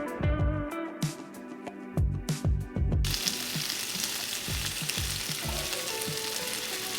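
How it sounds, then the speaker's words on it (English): Tofu frying in a pan as it cooks down, a steady close sizzle with a few soft stirring knocks and clatters early on, then continuous frying hiss throughout. "And we'll just let it cook down a little bit and that'll be it for the tofu."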